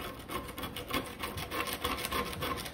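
A screwdriver scrapes the old rope gasket off a stove door in steady, close, rasping strokes that repeat without pause.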